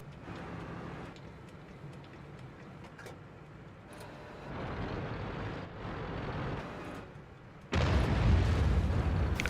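Artillery shell explosions in World of Tanks gameplay with a Leopard 1 tank, heard as rumbling bursts over steady engine and battle noise, ending in a loud, heavy boom that sustains through the final seconds.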